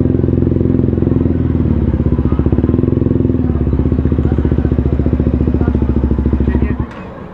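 Supermoto motorcycle engine close by, a loud rapid pulsing idle putter held for about seven seconds before cutting off; voices talk over it.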